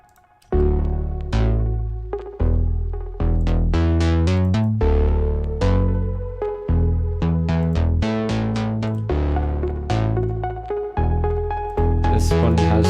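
Mini V software synthesizer played dry without its effect, a run of bright plucked notes over deep bass tones in a steady, rhythmic sequence, loud and upfront with no voices.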